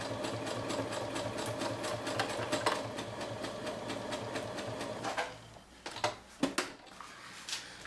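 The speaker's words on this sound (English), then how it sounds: "I'm going to use a zigzag stitch to do that." A sewing machine runs a zigzag stitch through felt for a headband appliqué, whirring steadily with a rapid rhythmic needle clatter before stopping and giving a few separate clunks near the end.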